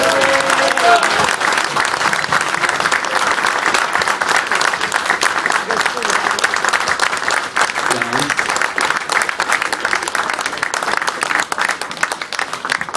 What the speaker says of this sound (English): let's give him a really big round of applause